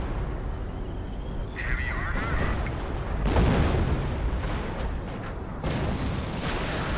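Hummel self-propelled artillery shelling a British position in a World War II strategy game, heavy booms and rumbling blasts rolling across the battlefield amid distant gunfire, loud and dense.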